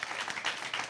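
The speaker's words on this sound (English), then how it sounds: "another round of applause" A short burst of audience applause at a secondary school impromptu speaking competition, brisk clapping heard moderately loud for about a second.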